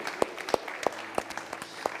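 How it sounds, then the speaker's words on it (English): Sparse, quiet clapping from a few guests at a wedding ceremony for the groom, a handful of separate claps in an uneven rhythm rather than a full ovation. "Let's give him a big round of applause."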